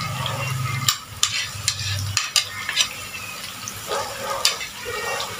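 Shallots frying in a pan while being stirred, a steady hiss of oil broken by a handful of sharp scraping clacks from the spatula at irregular intervals, close and moderately loud.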